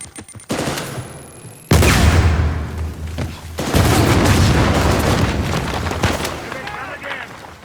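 A grenade explodes in Uncharted 4 with a heavy, loud boom and rumbling roar, followed by a second blast and ongoing gunfire and debris, while a voice shouts over the chaos.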